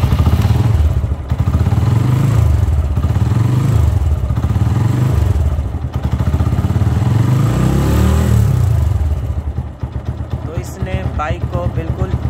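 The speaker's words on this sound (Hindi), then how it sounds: "बाइक को बिल्कुल इजीली सेल्फ स्टार्ट दे दिया है" A motorcycle fitted with a lithium battery self-starts and idles loudly close up, its engine chugging in a low rhythmic pulse that cuts off near the end, followed by a few faint clicks.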